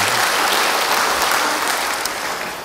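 A church congregation breaks into loud, dense applause, many hands clapping together in a continuous roar that stays strong and slightly fades at the end, with no clear talk over it.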